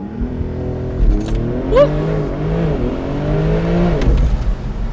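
A Porsche 911 Turbo S of the 992 generation pulls away gently, its engine note rising and shifting steadily under the cabin, with a brief chirp partway through and faint talk inside the car.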